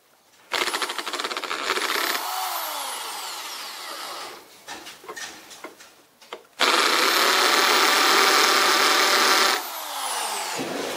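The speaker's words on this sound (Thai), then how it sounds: "เจาะรูกลมให้มีเส้นผ่าศูนย์กลาง3เซนติเมตรเพื่อให้สามารถใส่อุปกรณ์ลงไปได้" A power drill with a step bit bores a 3 cm round hole into a small 12 V power box enclosure, running in loud sustained bursts with pauses between, whining as it cuts.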